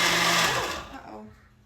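A blender whirs loudly as it purées mango habanero chicken wing sauce, a dense, steady roar that quickly winds down and fades within about two seconds.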